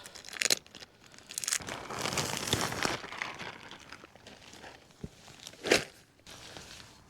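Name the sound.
plastic bag being removed from a tent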